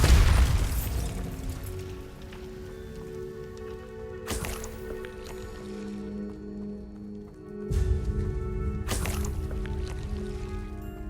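Bombarda blast spells going off in the video game Hogwarts Legacy, several deep booming explosions with watery, splashing tails, loud and close against a low ambient hum.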